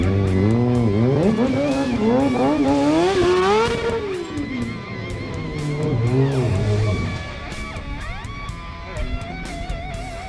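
A motorcycle engine warms up at a motorbike village event, revving loudly and rising and falling in pitch close by, then settling to a steadier idle.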